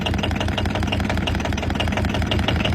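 A small diesel engine idles in the cold, running loud and close with a steady rough chugging throb throughout.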